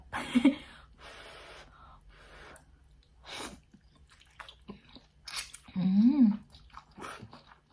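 Someone eats khanom jeen rice noodles in coconut curry sauce with chicken feet, using chopsticks, and the close slurps and chewing come in short bursts between bits of talk.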